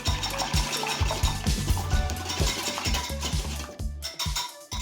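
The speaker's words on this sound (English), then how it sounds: "we've got 2 eggs and we're going to take a whisk and just whisk those up a bit" Two eggs are whisked briskly in a bowl, producing a steady run of close, rapid clinks and scrapes of a whisk against the side, loud and continuous with no talking.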